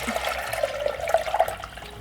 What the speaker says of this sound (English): Now I'm going to pour the broth from the chicken